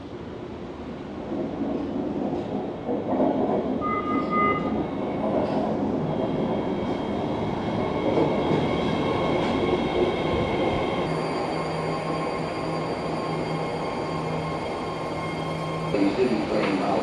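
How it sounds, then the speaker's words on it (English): A BART train pulls into a San Francisco platform bound for Daly City, rumbling nearer with rising wheel squeal and a steady tone as it slows, while people talk nearby. "San Francisco Daily City train now approaching platform 1"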